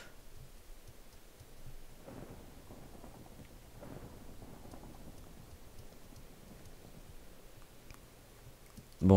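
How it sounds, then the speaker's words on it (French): Steady rain falling outside, a soft continuous patter with faint low rumbles, quiet and even throughout, with a sharp louder knock right at the end. "Bon, et apparemment il pleut toujours."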